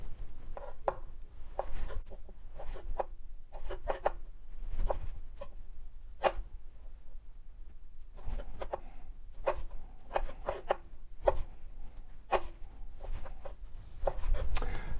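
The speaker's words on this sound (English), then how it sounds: "And for the cherry tomatoes, I just cut these in half. Cut each half again, so I've got quarters" A knife slicing cherry tomatoes into quarters on a cutting board while making an Afghan salad, with repeated quick crisp chops in irregular bursts, close up and moderately loud, no talking.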